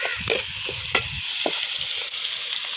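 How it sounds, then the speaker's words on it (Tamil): Tomatoes and spices being sautéed in a pan for a chicken and tapioca gravy, a constant close sizzle with a few sharp spoon clinks and scrapes, no voices. "தக்காளி எடுத்து போடு. எல்லாம் போட்டு வதக்கிறோம்."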